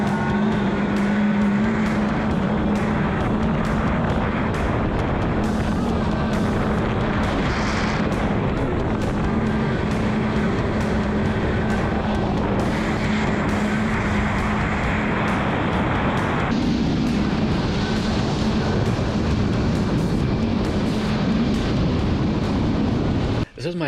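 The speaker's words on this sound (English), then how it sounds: "This is my first ride on an Ultra 250, also my first ride of the year 2021." A Kawasaki Ultra 250X jet ski runs at about half throttle on the water, its engine a loud continuous roar mixed with wind and splash, rising and easing slightly as the ride goes on, with a voice speaking over it.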